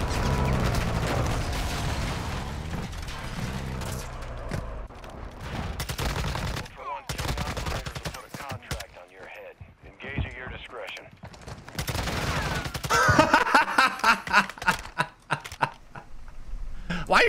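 Bursts of automatic and single gunfire ring out in Call of Duty DMZ, rapid rattling volleys interleaved with quieter stretches while a player talks over the action.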